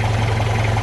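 An engine idles through a new 2.5 inch exhaust, a loud, steady low drone with a constant throbbing pulse, heard up close and alone.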